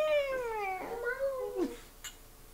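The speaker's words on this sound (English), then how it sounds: "Don't know where this cat call came from." A cat meows once in a long, falling, whiny call that ends in a short rising squeak, then a faint click follows, heard close and clear against a quiet background.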